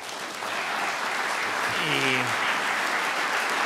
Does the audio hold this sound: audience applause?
yes